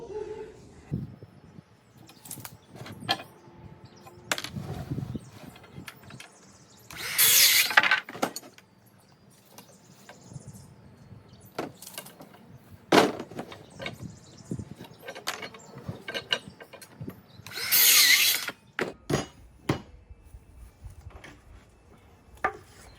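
Lumber cut to size for a heavy-duty DIY greenhouse base, with two loud, short power-saw bursts amid scattered knocks, clunks and handling noises of the wood.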